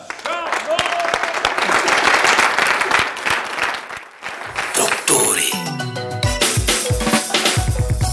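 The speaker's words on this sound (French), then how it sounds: "Applaudissements pour recevoir Si le charmeur" A TV studio audience claps to welcome a guest onto a French-language comedy show set, dense applause for several seconds that thins out as music and a host's voice take over toward the end.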